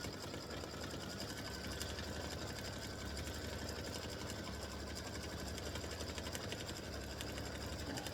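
An embroidery machine stitching a wider satin stitch on a football turkey appliqué block, running at a fast, even mechanical whir with steady needle chatter throughout, close and alone.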